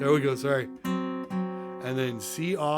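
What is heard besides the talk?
None of the usual background noises is heard.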